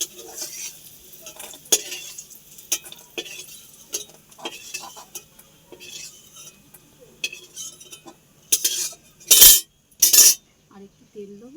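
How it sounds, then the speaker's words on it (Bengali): Bori lentil dumplings fry in oil in a home kitchen while a utensil scrapes and stirs the pan, giving soft sizzling under frequent clinks and clatters and a few sharp metallic knocks near the end. "বড়িটা ভেজে নেব।"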